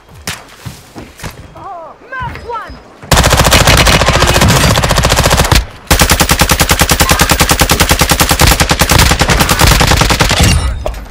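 A video game fires loud, rapid machine-gun bursts in two long, dense volleys separated by a brief pause, close and dominant. A voice is heard briefly before the shooting begins.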